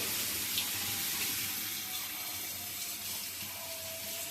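Water runs steadily from a kitchen tap onto flattened rice (poha) being soaked for kande pohe, a smooth close hiss that holds constant with no voices.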